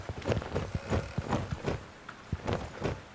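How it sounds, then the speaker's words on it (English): Horses and ponies stamping in the stables in The Dwarves video game, a steady run of soft hoof clip-clops with a muffled, shuffling rhythm, close and continuous. "You see some good horses and ponies in the stables."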